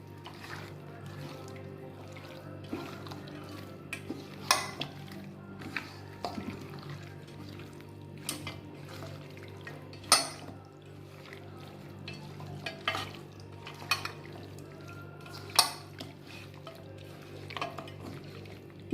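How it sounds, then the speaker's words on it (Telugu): Mutton being stirred with added ingredients in a pan, a soft ongoing sizzle with scattered sharp scrapes and clinks of a spoon against the metal pan. "మటన్ మొత్తానికి ఈ మనం వేసినటువంటి ఇంగ్రీడియంట్స్ అన్నీ పట్టేటట్లు బాగా కలుపుకుంటున్నాను"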